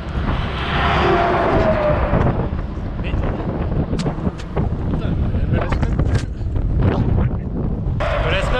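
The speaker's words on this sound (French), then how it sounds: "il y a un petit vent contre quand même" Steady light headwind buffets the microphone in a continuous low roar, with scattered knocks and rustles breaking through, on a road trip in Ontario.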